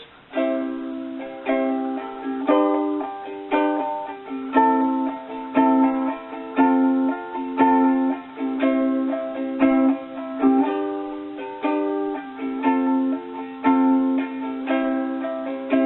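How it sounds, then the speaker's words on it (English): Bright ukulele chords of a song strummed in a steady repeating rhythm, with accented down-strums and lighter up-strums, played close and clear with no voices. "we're going to learn a new strumming pattern that sounds a bit like this."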